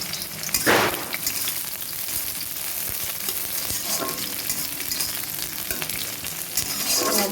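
Steady crackling sizzle of chilies frying in hot oil, with a couple of brief stirring scrapes; no talking.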